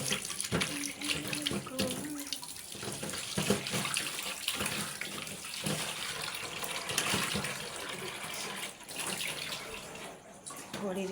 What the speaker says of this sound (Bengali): মাছটা ধুয়ে ফেলি, ভিন্ডি তো কাটা, মাছটা ধুয়ে ফেলি।